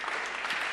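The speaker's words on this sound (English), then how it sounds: "This is not where you applaud." A conference audience breaks into brief, dense applause, a short burst of many hands clapping together in a hall.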